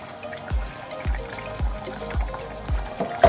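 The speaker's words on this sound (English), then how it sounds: "So I'm just going to add half a cup of water" Water poured into a pan of Bengali fish and bean curry gives a steady liquid wash, with soft low thumps repeating about every half second, close and moderately loud with no voice.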